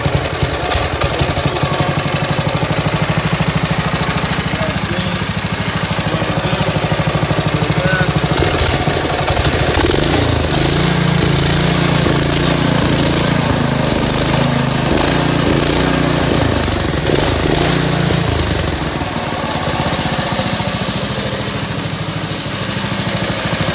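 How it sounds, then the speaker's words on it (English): Go-kart engine started with a pull cord and running on choke, a loud, rough, steady mid-pitched chugging and clatter that keeps going close by for the whole stretch. "Gotta put this one on choke as well to get it going. Turn the switch on"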